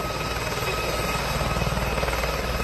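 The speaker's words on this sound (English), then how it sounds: "they hear a helicopter flying in" Helicopter flying in over a funeral ceremony, a loud, steady rotor thrum with rhythmic blade chop filling the whole stretch, no voices.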